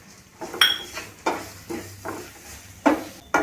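Onion, tomato and Maggi masala frying in a pan, with a spatula stirring and scraping in several separate strokes over a soft sizzle, close and clear, and no speech.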